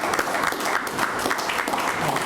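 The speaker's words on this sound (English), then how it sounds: "Let's give a stronger round of applause for our sister, Nayeba Arinde." Steady audience applause fills the room after a talk on healing and diet, a dense, even patter of many hands clapping with no pauses.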